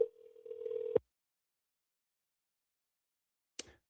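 An outgoing phone call rings unanswered: one steady ringback tone lasts about a second, then there is silence until a brief click near the end.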